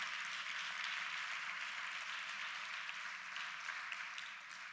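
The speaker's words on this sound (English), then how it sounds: "You can go on and clap for that because that's powerful." An audience at a keynote speaking event claps steadily, a soft, distant wash of applause that holds evenly from start to finish.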